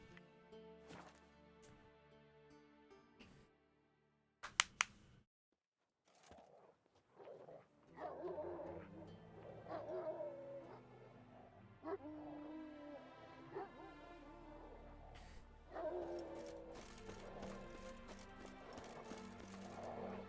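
In The Witcher 3, a dog barks and whimpers amid game sounds, with horse hoof clip-clops and ambient music, a brief silence early, then repeated moderate barks and whines over the rest.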